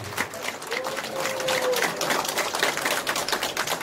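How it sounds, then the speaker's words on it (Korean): An audience at a Hwaseong citizens' regional meeting breaks into steady, dense applause that fills the whole stretch at a fairly loud level, with no speech over it. "감사하다고 박수 한번 부탁드리겠습니다"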